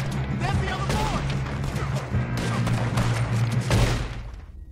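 A dense volley of gunshots fills a Red Dead Redemption 2 shootout during the Cornwall train job, the shots overlapping into a continuous loud rattle over a low rumble.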